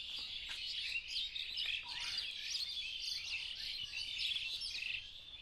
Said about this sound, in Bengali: পাখি সব করে রব রাত্রি পোহাইল